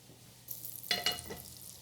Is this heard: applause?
no